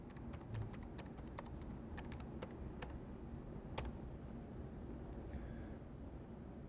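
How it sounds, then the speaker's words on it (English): Someone types an IP address on a computer keyboard: scattered light key clicks in short clusters, near and fairly faint over a steady background hum. "type in the IP address of the MW100"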